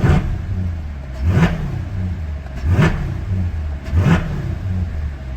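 A Corvette E-Ray fitted with a Pedal Commander throttle controller in sport mode, its engine blipped four times in short, even revs that rise and drop back to idle, loud and close with no talking.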